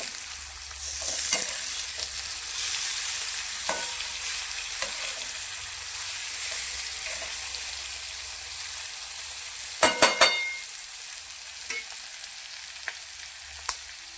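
Continuous frying sizzle with a spoon scraping and stirring through capsicum in a pan, several sharp metallic clinks near the end.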